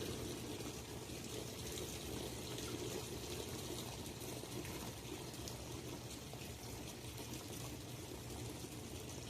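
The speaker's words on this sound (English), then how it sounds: "Isn't that crazy how quiet the water gets?" Water runs steadily with a soft, even rush and gentle trickle, continuous and unbroken, no voices.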